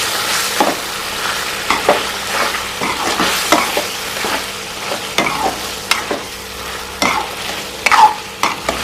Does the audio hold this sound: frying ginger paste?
yes